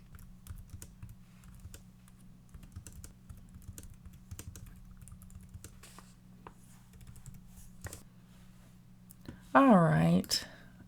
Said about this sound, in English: I'm going to pause and type it out for you